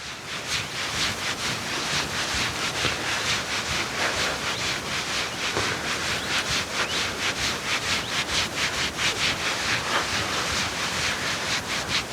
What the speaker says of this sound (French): on frotte en cercle sur le nombril